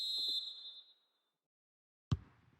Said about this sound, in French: l'arbitre siffle le coup d'envoi de cette première période